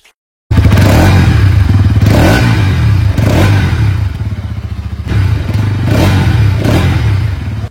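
A 2023 Bajaj Pulsar NS200 motorcycle engine starts up loud and close after a short silence, then runs with a steady throbbing idle and a few blips of revving, no talk.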